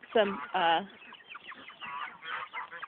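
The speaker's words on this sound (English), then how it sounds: "These are some of our lovely ducks and chickens." Chickens cluck and squawk in short bursts close by in a garden where ducks are also kept, with softer fowl calls continuing after the first loud cries.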